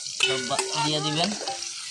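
Tempering (bagar) spices frying in a generous amount of oil over low heat, a close, steady sizzle running through the whole moment.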